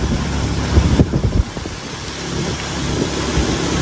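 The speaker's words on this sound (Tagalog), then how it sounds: "Lakas ng ulan." Steady, dense hiss of heavy rain pouring down, with a few low thumps and rumbles early on before the downpour settles into a constant roar.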